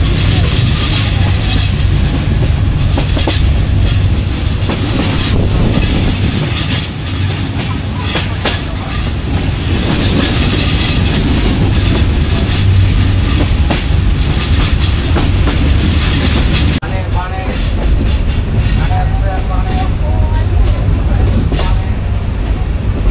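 A Joyantika Express passenger train runs through tea gardens on the Sylhet to Dhaka line, giving a loud, continuous rumble with steady wheel clatter from inside the carriage throughout.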